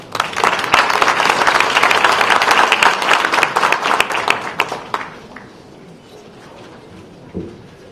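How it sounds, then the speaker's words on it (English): Audience applause at a formal event in South Korea, a dense, loud burst of clapping that thins out and fades after about five seconds, leaving a quiet room with a faint knock near the end. "Please give him a big applause."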